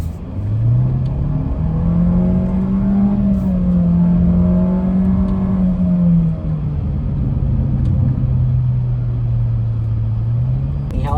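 A 2022 Renault Captur's 1.3 TCe turbo engine pulls hard through its CVT, a loud steady drone whose pitch climbs, holds, dips slightly and rises again near the end, heard from inside the car.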